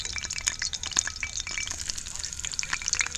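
Pancakes fry in a cast iron skillet outdoors by Cherokee Lake, giving a close, crackling sizzle with small pops and spatters and no pause.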